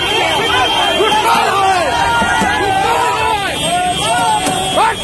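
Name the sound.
angry crowd chasing motor vehicle inspector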